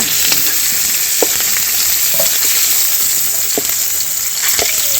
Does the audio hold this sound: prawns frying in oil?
yes